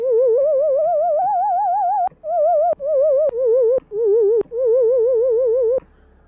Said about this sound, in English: I've got a basic sine wave here.